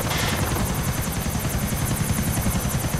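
A helicopter in Grand Theft Auto IV thumps steadily with rapid rotor beats over a loud, continuous engine roar, close and unbroken, with no talking.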